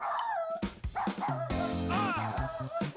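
A cartoon dog in a kids' mobile game yips and woofs in a quick run of bright barks over game music, with a voiced character talking in between.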